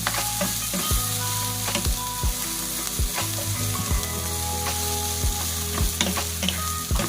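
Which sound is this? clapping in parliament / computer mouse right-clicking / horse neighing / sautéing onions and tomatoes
sautéing onions and tomatoes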